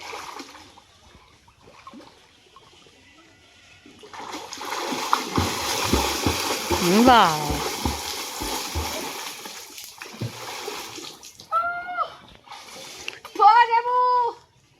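Water splashes and sloshes in a pond as someone bathes, in irregular bursts that build in the middle, with voices talking and calling out over it toward the end.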